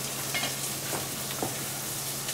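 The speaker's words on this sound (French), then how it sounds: "On fait suer l'oignon avec le beurre." Onion sweating in butter in a pan while preparing mussels in beer, a steady soft sizzle with faint crackles and a few light stirring ticks, close and continuous with no talking.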